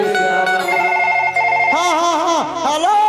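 A phone ringtone plays loudly and steadily, a looping melodic electronic tune with warbling tones that continues throughout without pause.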